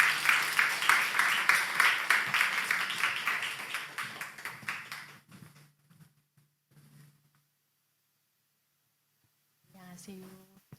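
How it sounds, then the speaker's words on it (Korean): A church congregation claps in welcome during a Sunday service, a fairly near round of applause that fades out after about five seconds, followed by near silence and then a little speech. "앞으로 나와서 우리 간증할 때 큰 박수로 환영해 주시기 바랍니다"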